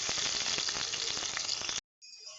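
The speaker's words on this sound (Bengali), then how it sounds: "টমেটোটা আমি একটু কষে নেব।" Tomato for ghugni being sautéed in a pan, giving an even, moderately loud sizzle. It stops abruptly, then resumes more faintly after a short silent gap.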